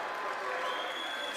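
A crowd at a kickboxing bout applauds and cheers in a brief, dense burst that fills the whole moment, steady and fairly loud.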